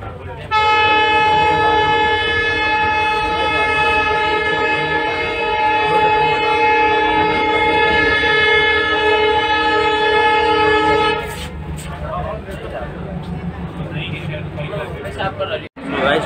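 An Indian passenger train at Jaipur station sounds one long, loud horn blast lasting about eleven seconds. Rumbling carriage noise follows, with a sharp clunk near the end.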